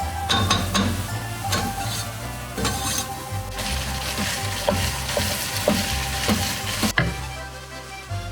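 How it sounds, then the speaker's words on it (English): A pot of tomato sauce with tomatoes, tomato paste, wine, olive oil, salt and sugar bubbles and sizzles on the stove, a steady close simmer with occasional soft stirring clicks and no voices. "And we've got it simmering away, which will stay this way for a couple of hours"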